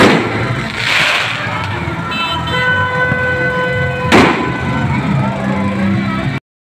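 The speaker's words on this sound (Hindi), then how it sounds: "भाई आतिशबाजी तो बेताशा हो रही है और बहुत हो रही है" Fireworks burst during a night street celebration in Karachi, with steady crackle and booms amid crowd noise, car horns and a sustained horn tone, and one loud, close explosion partway through.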